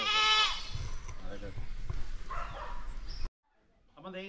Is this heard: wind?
no